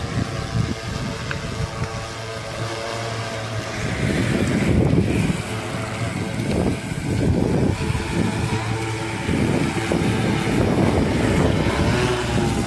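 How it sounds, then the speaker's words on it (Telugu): Strong wind gusts across an open construction site for a wide new road, a constant loud rumbling buffet against the microphone that swells and eases without a break. "గాలి బాగా వేగంగా వస్తుంది"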